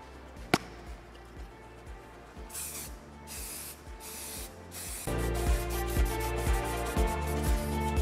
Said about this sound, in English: we're gonna hit those real quick with some of our A-Sub Blue sublimating spray